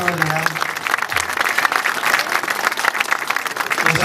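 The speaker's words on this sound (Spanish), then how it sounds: "Un aplauso, se va a llevar doble aplauso a nuestro delegado." An audience gives loud, continuous applause to the delegate of La Ribera at a public event, dense clapping with crowd noise and a voice briefly heard at the start.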